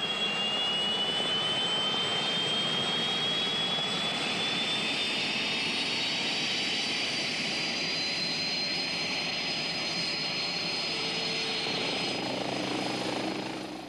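A Westland Scout helicopter, an obsolescent type with largely manual controls and little spare power, flies past with a steady, loud turbine whine and rotor roar that holds throughout, with no voices.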